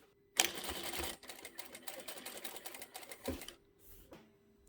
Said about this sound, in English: we can do another back stitch and stitch to the end